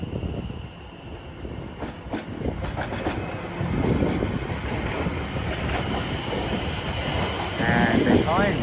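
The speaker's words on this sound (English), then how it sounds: "ready to go now is the 1646 Greater Anglia service to Liverpool Street" A Greater Anglia electric train, the 16:46 service to Liverpool Street, pulls away from Shenfield station on the Great Eastern Main Line, its steady rumble and rail noise building gradually and lasting throughout, with faint wheel squeal near the end.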